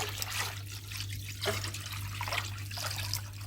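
Five liters of drinking water poured into a plum syrup mixture for homemade umeshu plum wine, a steady, continuous splashing trickle heard close up and alone for the whole stretch.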